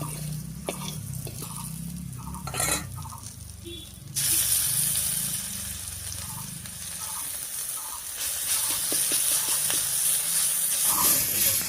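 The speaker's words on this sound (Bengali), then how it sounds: "এর মধ্যে দেবো থেতো করা রসুন আর কাঁচা লঙ্কাটা" A few light clinks and scrapes of a pan, then a sudden broad sizzle as crushed garlic and green chili hit hot oil beside frying brinjal, the hiss holding steady and swelling slightly toward the end.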